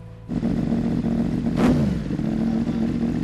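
A Yamaha AMA Superbike engine runs loud and close with a rough, throbbing idle, then a quick rev surges and drops back to the steady rumble.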